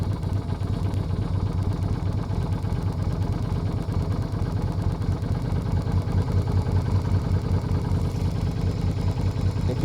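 A Yamaha Virago XV250 motorcycle fitted with pod filters, its engine idling close by with a continuous low, uneven throb, struggling slightly, steady in loudness throughout.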